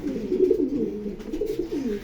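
Racing pigeons in a club member's loft coo softly, a low, rolling, continuous burble of overlapping calls close by, with no speech.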